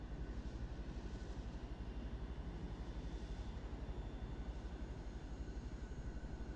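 A military helicopter flies in the video game ArmA, its rotor a steady, loud, rhythmic chopping drone that continues evenly throughout.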